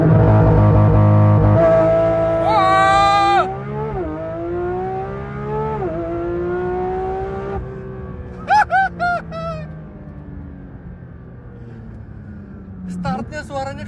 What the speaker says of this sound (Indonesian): Startnya suaranya kayak mobil balap.